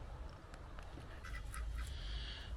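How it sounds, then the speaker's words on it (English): Faint honking calls from a few geese sound at a distance over low outdoor rumble in a park, brief and scattered. "We've got some geese there."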